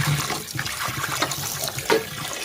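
Water runs steadily over koi fish being washed in a village kitchen, a continuous splashing gush with small surges and no talking.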